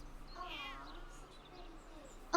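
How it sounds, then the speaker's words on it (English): A cat in the Baldur's Gate 3 video game gives a single, fairly soft meow with a rising and falling tone, set against a quiet background hum. "Aw, such a pretty kitty."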